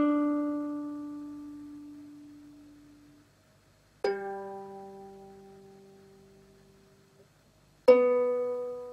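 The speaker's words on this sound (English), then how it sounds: "So the four strings sound something like this." A ukulele's four open strings in open G6 tuning are plucked one after another at spaced intervals, each note ringing clearly and decaying slowly in a quiet room.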